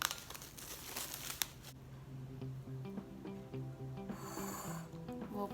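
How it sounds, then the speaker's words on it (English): Plastic wrap is crumpled and crinkled by hand over risen pandesal bread dough, a close burst of crackling rustles that fades into quieter handling and a low background hum. "plastic wrap."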